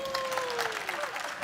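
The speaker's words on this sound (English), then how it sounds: "Can we get a round of applause for our panelists?" A short burst of audience applause for panelists at a car wash industry trade show, steady and moderately loud, with a thin sustained tone gliding over the clapping.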